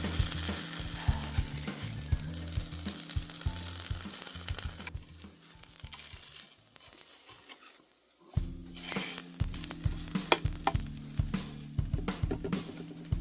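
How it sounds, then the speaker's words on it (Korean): Food sizzles and crackles steadily in a hot pan with scraping and stirring, pausing briefly for a quieter stretch before the frying picks up again. "아주 지글지글 잘"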